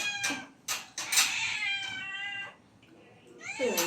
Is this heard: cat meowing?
yes